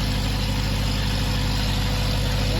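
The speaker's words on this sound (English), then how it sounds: "The longer this engine runs, the stronger it's going to get." A freshly rebuilt engine runs steadily on a dyno, a loud, constant mechanical drone with a low hum underneath and no pauses or changes in pitch.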